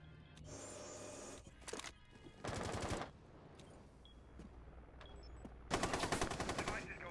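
Gunfire from a competitive tactical shooter match, several loud bursts of automatic fire separated by short gaps, plus a few sharp single shots, with faint commentary underneath.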